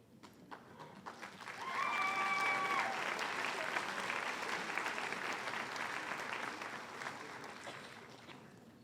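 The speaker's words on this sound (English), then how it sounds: "Nice round of applause for our honor graduates." Audience applause at a high school senior assembly for honor graduates, swelling from sparse clapping into a sustained, fairly distant round that holds steady to the end, with faint whistles and voices mixed in.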